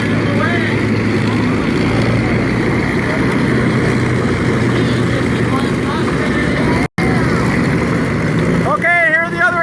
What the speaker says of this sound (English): The B-25 is taxiing.